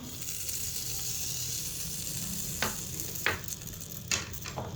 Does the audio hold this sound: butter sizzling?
yes